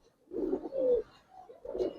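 Military khaki Bagha pigeons cooing nearby, three soft throaty coo phrases with a short pause before the last, clear and unaccompanied.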